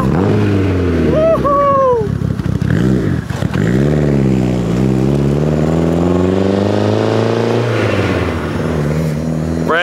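A Mitsubishi Evo 8 with a fully built 2.4L stroker engine on its base map revs loudly and pulls away, the engine note climbing through several gears with a sharp blip and rev changes, close and dominant.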